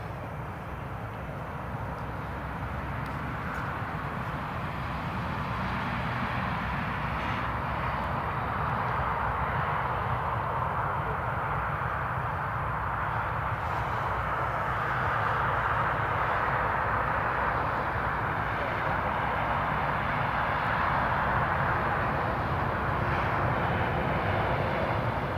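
Steady jet engine rumble from an aircraft taxiing in to its stand at Newcastle Airport, a continuous, moderately distant drone that swells slightly over time without any talk.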